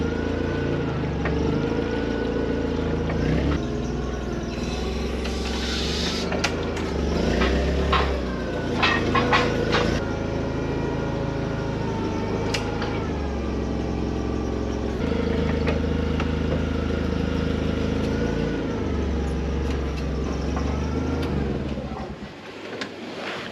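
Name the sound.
forklift engine running while driving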